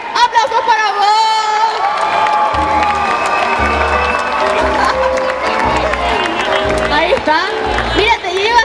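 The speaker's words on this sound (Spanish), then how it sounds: "Ahí está nuestro ganador de la primera Superfest. Aplausos para vos." A crowd cheers, whoops and applauds for the winner of a cosplay contest at a fan festival in Chile, loud and close, with shouting voices and music-like tones layered over the clapping.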